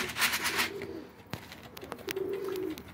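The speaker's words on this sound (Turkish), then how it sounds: "yeni bir Bağdat kuş indirdik" A Baghdad pigeon coos in two low, drawn-out phrases, the first partly under a burst of noisy rustling and the second clearer near the end, with a sharp click in between.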